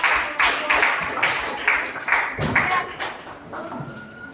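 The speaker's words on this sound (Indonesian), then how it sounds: "Oke, beri tepuk tangan luar biasa." A class of students claps in a room, a series of bright, fairly loud rhythmic clap bursts that taper off toward the end, with some voices underneath.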